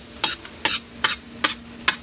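Vegetables sweating in a pan on a grill, with five evenly spaced bursts of sizzle and stirring, each short and close, over a faint steady hum.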